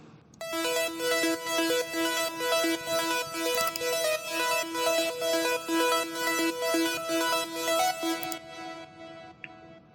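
Bright plucked synth pattern made in the Vital synthesizer for an emotional progressive house track, repeating a steady rhythmic melodic figure with rich harmonics, loud and alone, then stopping and leaving a short reverb tail.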